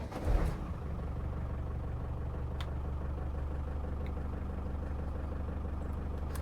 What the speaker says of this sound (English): listen just to the sound of starting a diesel